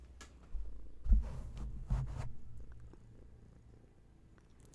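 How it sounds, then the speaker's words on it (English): A cat purrs close by in soft, rumbling waves, with a few louder breaths and rustles partway through, then settles into quiet purring. "Just some purrs for you."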